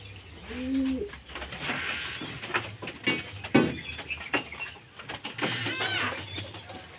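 Pigeons and their chicks in a loft give low, repeated cooing, with soft chirps and shuffling mixed through a steady background. Two of the calls stand out, one near the beginning and one near the middle.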